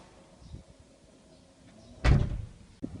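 The powered rear tailgate of a Ford Everest thuds shut with a solid, close clunk after a quiet stretch, followed by a brief latch click.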